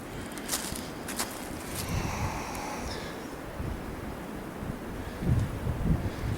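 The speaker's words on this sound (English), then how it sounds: "Winds are supposed to be gusting 27 miles per hour up here." Cold wind gusting to about 27 mph on a West Virginia hilltop during deer season blusters steadily against the microphone, with rushing gusts and a few faint rustles or footsteps underneath.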